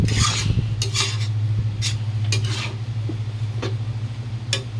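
Pancit sotanghon noodles being stirred and tossed in a pan, with scraping and rubbing strokes of a utensil against the metal coming in irregular bursts over a steady low hum, close and fairly loud.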